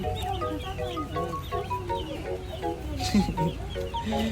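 Chickens cluck and chicks peep steadily at close range in a backyard flock, a busy overlapping chatter of short calls throughout.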